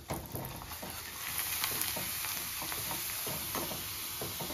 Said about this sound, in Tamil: இப்படி தான் நாங்கள் பொரிப்போம்.